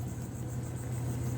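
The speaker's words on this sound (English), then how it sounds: "I apologize if you hear that drone or that truck in the background" A truck engine idles steadily in the background at an RV campground, a low continuous drone at moderate distance with no talk.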